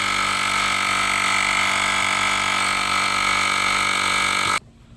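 A cordless compact Asperx tire inflator runs steadily, filling a bike tire with a loud, constant motorized drone and buzz close by, then cuts off abruptly near the end, leaving quiet.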